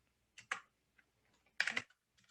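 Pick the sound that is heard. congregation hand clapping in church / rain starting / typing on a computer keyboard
typing on a computer keyboard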